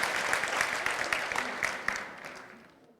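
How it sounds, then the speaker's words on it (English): An audience at a kids' programme applauds the parents, a dense patter of clapping that thins and fades out over a few seconds. "Round of applause for our parents."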